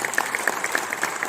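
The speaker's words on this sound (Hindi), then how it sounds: "भाई के लिए मैं चाहूंगा जरूर तालियां बजाएं" A crowd at a university awards event claps briefly, scattered and moderately quiet, with individual claps audible in a short burst.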